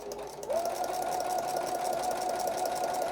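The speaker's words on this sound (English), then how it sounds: "we'll sew those two together." A sewing machine stitching layers of homespun rag quilt fabric and batting together runs in a steady close whir that starts up after a brief quieter moment and continues unbroken.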